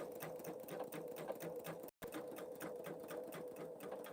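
A Pfaff Creative Vision embroidery machine stitching at a steady rapid pace, a rhythmic mechanical hum and needle clatter close by, with one brief cut of silence midway.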